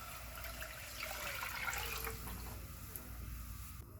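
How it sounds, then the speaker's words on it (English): Water poured into a cooking pot on a stove to start a fish broth, a soft, steady splashing and trickling heard fairly quietly without any talk. "I'm going to place my water into the pot."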